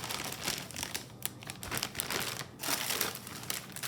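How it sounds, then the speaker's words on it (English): Crunchy cookies tumble into a Ziploc plastic bag with dense crinkling and rustling of the plastic and brittle scraping of cookie against bag, close and busy for a few seconds. "Just toss them in a Ziploc bag."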